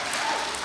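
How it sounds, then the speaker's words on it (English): Children at a school chapel gathering give a brief, dense burst of clapping that sounds fairly close. "Applause on that, right?"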